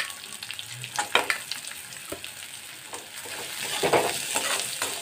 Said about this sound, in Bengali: আদা রসুনটা আমার ভাজা হয়ে গেছে, এবার এর মধ্যে দিয়ে দিচ্ছি আমি কুচি করে রাখা পেঁয়াজ